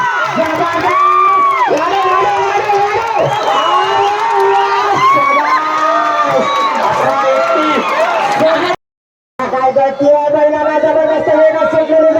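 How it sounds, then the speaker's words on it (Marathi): A dense crowd shouts and cheers at a village community ploughing competition in Bagwadi, Devrukh, with many overlapping voices and whoops continuing loudly and steadily, broken by one brief gap near the end. "स्पर्धा पाहण्यासाठी पंचक्रोशीतील रसिकांनी गर्दी केली होती।"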